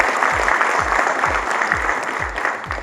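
Steady, loud audience applause fills a business gathering hosted by the Times Group for a Lenovo IT assembly aimed at small and medium enterprises, with a regular low thumping beat running underneath.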